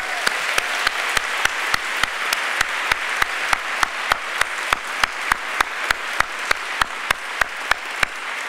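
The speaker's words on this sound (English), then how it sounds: "I think we deserve to give them a big round of applause" A ceremony audience breaks into a steady round of applause at a peace prize lecture and award event, dense hand clapping with regular sharp accents from a few nearby clappers, sustained throughout without talk.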